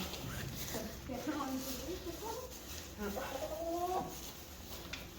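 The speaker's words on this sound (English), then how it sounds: "Go get more chickens." Chickens cluck in short bursts inside a barn stall being converted into a coop, close by, while people talk over the birds throughout.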